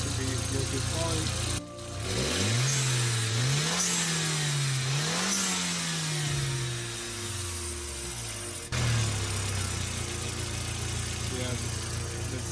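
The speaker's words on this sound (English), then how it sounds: "that stupid rattling noise is coming from the wastegate flapper" An Audi A4 B5 quattro 1.8T engine, fitted with a test pipe, revs up and down through several rising and falling swells from idle, with a loose wastegate flapper rattling, and a voice speaking nearby.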